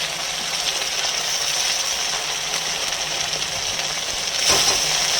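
Jackfruit curry with onion sautéing in a pan, a steady close sizzle of frying that runs throughout and swells slightly near the end as it is stirred.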